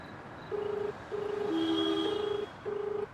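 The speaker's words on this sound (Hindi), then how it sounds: "ससुर जी का भी फोन नंबर था, फोन मिलाता हूँ।" A telephone call comes through as a run of steady electronic tones, with several separate beeps and one longer overlapping tone, clear over a quiet background.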